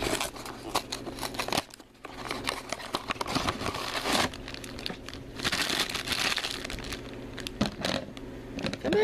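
A plastic Disney blind bag being cut and torn open, with steady crinkling and rustling of the plastic, short snips and crackles throughout, close and fairly loud.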